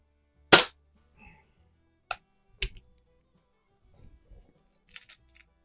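An air rifle being cocked without holding the end of the barrel gives one sharp loud snap, then a couple of fainter clicks and a few soft mechanical taps, all close and with no talk over them.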